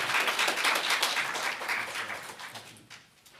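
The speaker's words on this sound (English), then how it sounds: "maybe what we'll do is we'll do a round of applause" Applause from a symposium audience on election misinformation, a broad wash of clapping that starts full and then tapers and thins toward the end.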